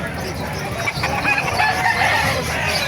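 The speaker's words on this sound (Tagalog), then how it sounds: "Papakita ko sa inyo mga manok dito sa Bukawi" Chickens cluck and a rooster crows amid a busy flock at the Bocaue flea market in the Philippines, with steady background noise and a faint voice now and then.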